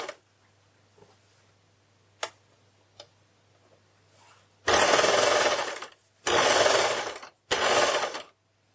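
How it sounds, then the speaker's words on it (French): An overlocker serger with four thread spools stitching fabric, running in three loud bursts of steady mechanical whirring separated by short pauses, after a few faint clicks and taps. "La surjeteuse, en fait, il y a 4 bobines, 2 en haut et 2 en bas."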